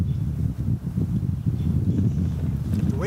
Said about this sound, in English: The wind kicked up a little bit.